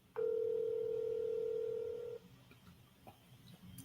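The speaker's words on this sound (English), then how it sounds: "I'm calling Thomas Doe" A telephone call rings out with one long, clear steady tone lasting about two seconds, close and loud, followed by faint background noise.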